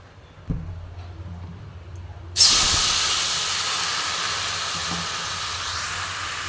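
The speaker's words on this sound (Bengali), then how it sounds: "দেখো, ফোড়নটা খুব ভালো মতন ভাজা হয়ে গেছে। তো আমি এতে অল্প পরিমাণে জল দেবো।" A little water poured onto hot fried tempering spices in a pan bursts into a sudden loud hiss that slowly fades into a sustained sizzle, after a quieter clink beforehand.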